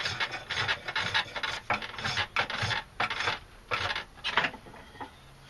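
A spokeshave shaves wood fibers from a workbench leg in a run of rough, raspy cutting strokes, close and fairly loud, some strokes rapid and others spaced by short pauses, with a brief quieter tail.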